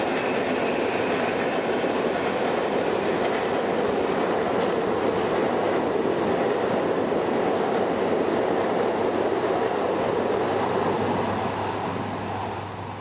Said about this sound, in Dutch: Daar komt de volgende nachttrein, getrokken door een 101 met reclame op de zijkant